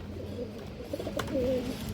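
A silver pigeon gives soft repeated coos at close range, with a clearer rising call near the end, alone without speech.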